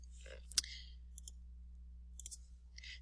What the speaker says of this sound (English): now when I click on the dice, it automatically will roll both of the dice